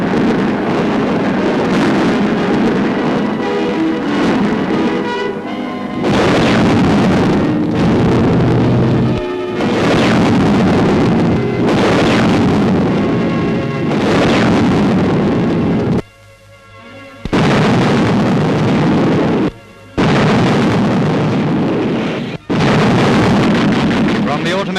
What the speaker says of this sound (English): The big explosions are ammunition supplies going up.